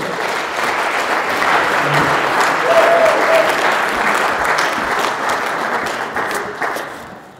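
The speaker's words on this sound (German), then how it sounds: "Mit Applaus für Gudrun Brendel-Fischer" Sustained applause from the audience at a German farewell gala evening, a broad even rattle of many hands in a hall that swells slightly in the middle and fades out near the end.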